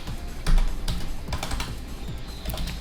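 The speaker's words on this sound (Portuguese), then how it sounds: "Então eu vou digitar aqui apt" Typing a short command on a computer keyboard in Kali Linux, with a few quick close key taps and a heavier keystroke near the start, no speech.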